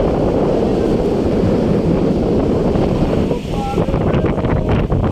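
Strong wind blows across a river under a cloudy sky and buffets the microphone. A loud, continuous roar and rumble fills the whole stretch.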